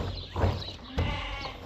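Sheep bleating inside a sheep barn during chores, two short close calls about half a second apart over a steady barn background.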